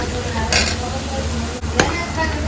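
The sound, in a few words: onion and garlic frying in hot oil for tadka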